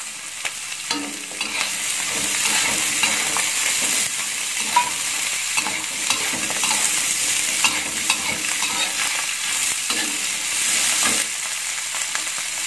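Tomatoes and green beans being stir-fried for an Indonesian oseng, a continuous loud sizzle with occasional scraping strokes of a spatula in the pan, close and without talk.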